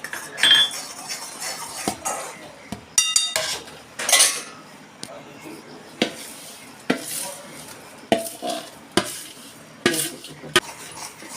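A spoon scrapes and clinks against a metal pan while mohanthal sugar syrup is stirred with added colour, giving irregular clatters and taps alone with no talk.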